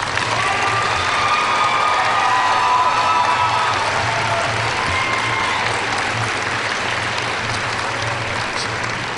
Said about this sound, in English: Graduates, I would ask that you would please rise and give a final round of applause and thanks to the faculty and staff of the university